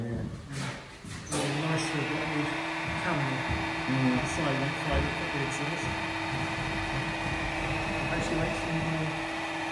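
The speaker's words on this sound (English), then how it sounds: "I'm going to start the lube oil pump." A steady mechanical hum and whir from a lube oil pump running on a 37-ton twin turbo diesel engine, continuous and fairly close, with speech and scattered knocks in the first couple of seconds.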